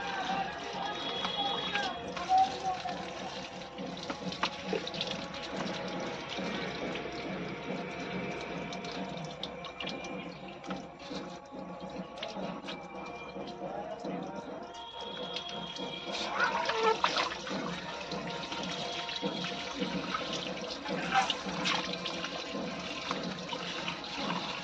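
Tap water runs steadily while raw chicken meat is washed in a home kitchen, faint and continuous, with occasional splashing and handling noises.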